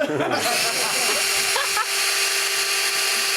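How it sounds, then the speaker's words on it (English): A high-pitched power drill whines steadily and loudly, its tone staying constant throughout with a brief dip near the middle. "Power drill."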